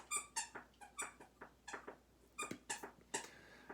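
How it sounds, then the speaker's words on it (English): A squeaky toy squeaks over and over in a quick, fairly steady rhythm, each squeak short and high-pitched, fairly faint and heard alone without talk. "Squeaky toy. That's gonna be distracting."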